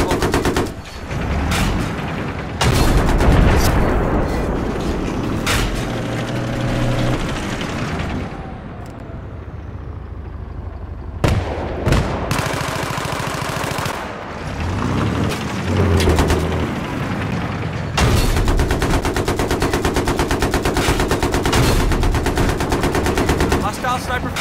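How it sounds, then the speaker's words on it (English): Battlefield 3 combat: sustained loud machine-gun and rifle fire with booming shots and explosions, nearly continuous bursts throughout, with brief quieter gaps and some in-game radio voice. "Hostile sniper fire in your area."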